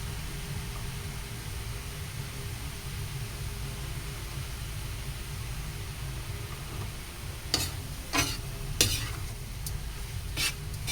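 Menudillo sizzles in a pan with a low, steady frying hiss, then a burst of sharp utensil scrapes and clinks from stirring arrives near the end; no voices.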